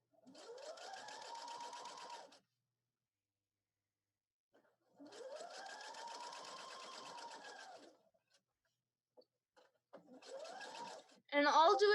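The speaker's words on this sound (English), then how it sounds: "And then I sew the edge of my bias tape down onto my fabric with a straight stitch." Sewing machine straight-stitching bias tape onto fabric, running in three bursts with rising and falling motor whine and pauses between, close and fairly loud, with a brief sharper clatter at the very end.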